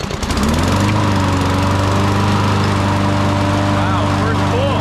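A cold Toro Recycler 21442 self-propelled lawn mower engine fires on the first pull and settles into a loud, steady running drone close by, alone without talk.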